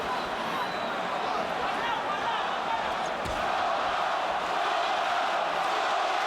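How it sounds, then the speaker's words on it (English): A Puerto Rican crowd at a Miguel Cotto versus Zab Judah boxing fight roars and chants for Cotto, a dense continuous arena din with a single thud partway through. "Puerto Rican crowd begins to chant for the man"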